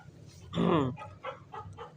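Hens clucking close by, a loud burst of calls followed by several softer, rhythmic clucks.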